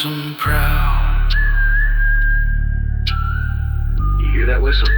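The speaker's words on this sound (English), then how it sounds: "You hear that whistle?" A sustained melodic whistle rides over heavy 808 bass in a country and trap fusion song, loud and steady throughout, with a sharp hit at the start.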